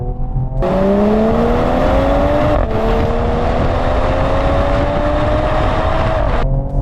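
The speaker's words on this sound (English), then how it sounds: "I got synthesized engine sound." A loud, synthetic-sounding engine of a 2022 Mercedes-AMG GT 53 4MATIC+ Coupe revs up steadily in one long pull, with a brief dip as it upshifts automatically midway.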